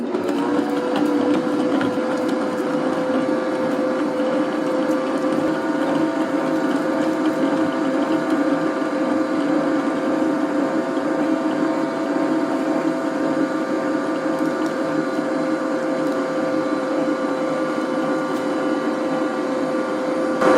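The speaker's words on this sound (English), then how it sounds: "we're going to start with a stick of room temperature butter and get it in the mixer." Electric stand mixer creaming room-temperature butter with powdered sugar for a strawberry gelatin cake: a loud, steady motor whir with an even hum, running unbroken and close by for about twenty seconds, no talking.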